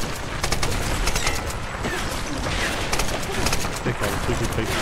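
A grenade launcher fires in the Tomb Raider video game, a dense run of sharp bursts and thuds over a noisy battle din while people talk in the background.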